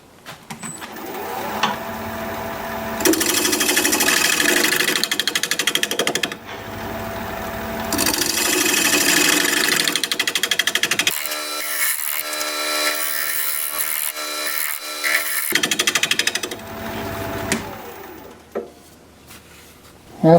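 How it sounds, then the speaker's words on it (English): A negative rake scraper works across a spinning wooden bowl on a wood lathe, giving loud, close scraping and rasping passes that start and stop in bursts over the steady hum of the lathe. "I'll use my negative rake scraper for that."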